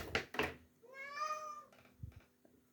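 A house cat gives a clear drawn-out meow, close and alone, between a few soft bumps and rustles before and after.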